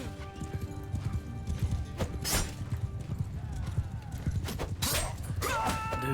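Horses gallop across a battlefield in Mount & Blade II Bannerlord, dense clip-clop hoofbeats mixed with clashing, shattering battle noise and an occasional whinny, moderately quiet throughout.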